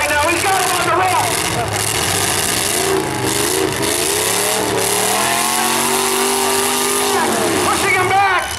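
Demolition derby trucks grind and rev their engines in a steady, loud drone with rising and falling pitch as one pins another against a wall, an announcer talking over the continuous roar throughout.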